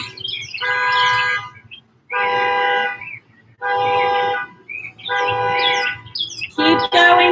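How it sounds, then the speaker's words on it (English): A car horn honks outdoors in the morning in four long, loud, evenly spaced blasts followed by a final rapid burst of toots, with birds chirping faintly in the gaps between them. "Just a little morning car horn to go along with the birds chirping."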